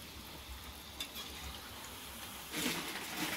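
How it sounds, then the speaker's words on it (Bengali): Dahi vada frying in oil at home on Holi, a faint, steady low sizzle heard from a little distance, briefly growing louder near the end. "মা দই বড়া ভাজছে।"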